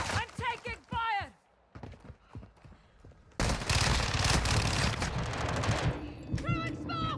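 Rapid gunfire in Warzone 2 breaks out after spoken lines, a dense sustained burst of close automatic shots lasting a few seconds, with a voice talking before and after.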